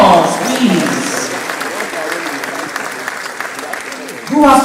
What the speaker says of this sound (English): Can we give them an outstanding round of applause, please?